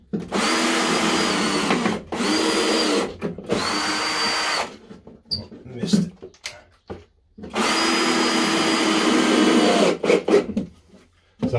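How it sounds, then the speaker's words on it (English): A cordless drill drives screws into timber pipe boxing in several long, loud whirring runs close by, separated by pauses with clicks and handling noise. "Just going to chuck a couple more screws in here."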